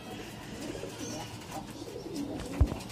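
A soft pigeon coo close by over low background noise, ending with a brief thump.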